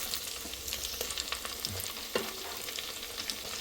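Sliced onions sizzle steadily in hot oil with curry leaves and green chillies for a chicken gravy, a soft, continuous crackle with occasional brief spatters and stirring scrapes, close up and with no voices.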